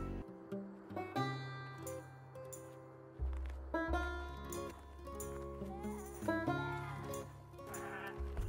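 Sheep bleat repeatedly in a 3D animation of two flocks trying to reach each other, several overlapping loud calls in irregular bursts, close and prominent throughout.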